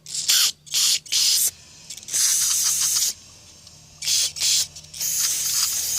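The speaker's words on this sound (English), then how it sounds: "Okay, so what I'll do, I'll spray" Repeated loud bursts of aerosol carburetor cleaner hiss up close on a Honda GX160 carburetor, short squirts followed by longer sustained sprays with brief pauses between.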